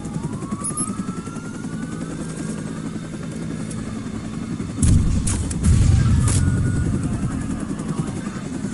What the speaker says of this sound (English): I'm just taking down the helicopter.